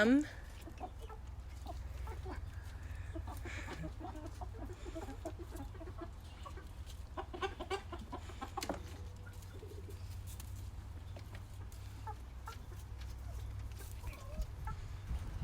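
Chickens cluck and chatter indoors in a bathroom, scattered short calls over a steady low hum, with people talking faintly at times.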